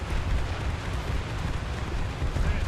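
Naval guns in the War Thunder game fire in a dense, continuous rumble of booms, with low thuds rolling together at close range and no speech over them.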